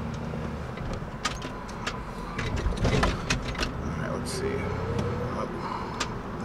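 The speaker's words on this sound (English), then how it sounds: "there's a bunch of cars coming out right now" Cars pulling out and driving past on a road, heard from inside a vehicle as a steady low rumble of engines and tyres that swells around the middle, with faint voices present.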